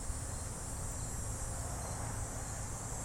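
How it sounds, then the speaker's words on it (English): Crickets and cicadas chirp steadily in nature, a dense continuous high-pitched trill with no gaps, moderately loud and constant throughout, with a low rumble underneath. "the crickets chirping."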